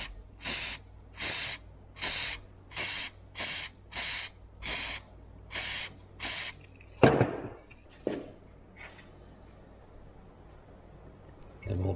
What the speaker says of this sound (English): It has to be a mass airflow sensor cleaner. So we'll just lightly spray it.